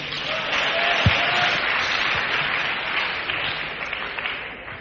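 An audience claps together at a church sermon, a dense, steady burst of applause sustained for several seconds, fairly loud and close, with no speech over it.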